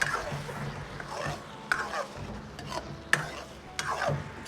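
Braised tofu being stirred in a wok while starch slurry thickens the sauce: a steady soft sizzle broken by several distinct spatula scrapes and knocks, close and fairly quiet, with no talking.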